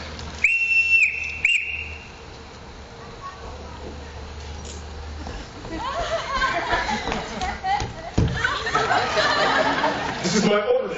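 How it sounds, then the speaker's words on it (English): A whistle blown to summon a household in a film scene gives two short, shrill, piercing blasts near the start, followed by a low rumble of shuffling movement and bustle. "Everyone in this house answers to a whistle."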